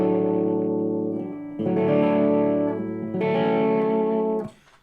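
Electric guitar with distortion turned down slightly plays the intro of a song, held chords ringing out loud and sustained in three strums before cutting off, with no voice over them.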